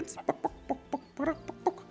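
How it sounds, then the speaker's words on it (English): Chickens in the zoo-building game Planet Zoo cluck in a run of short, separate calls, several quick ones followed by a longer squawk, fairly near and moderately loud over a quiet background. "And obviously you can see all the chickens."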